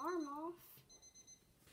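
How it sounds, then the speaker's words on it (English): An alarm clock going off at 3 a.m. at night: two short bursts of faint, high-pitched beeping, the first partly under a brief voice, then continuing alone in a quiet room. "Gotta turn my alarm off."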